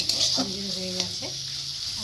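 Egg bhujia fries in a pan while it is stirred, producing a close sizzle with scraping strokes and a brief voice over it.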